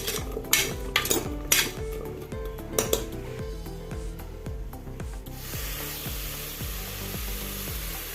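A spoon scrapes around a metal pressure cooker, stirring a tablespoon of ghee for carrot halwa in steady, rhythmic strokes, about two per second, with a few clinks early on, then a duller, softer stirring.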